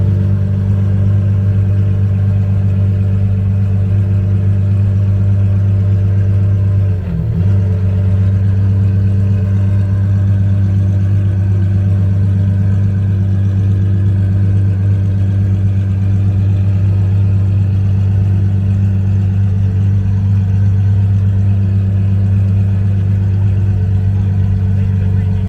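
A car engine drones steadily on a freeway, loud and close for a long stretch with a brief dip around a gear change, the low rumble holding constant throughout.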